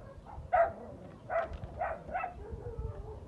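A female dog barks four or five times in short, spaced yips and woofs, fairly close, with a soft background rumble and no talking.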